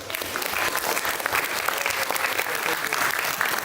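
An audience claps through a sustained, even round of applause at a school personal project exhibition, dense and fairly loud from start to finish with no one speaking over it.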